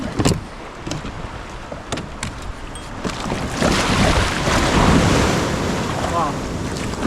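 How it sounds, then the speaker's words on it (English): A small ocean wave breaks in Monterey Bay, a loud surging wash of surf building midway, heavily buffeted by wind noise on the microphone. "almost just got rolled by the smallest wave ever"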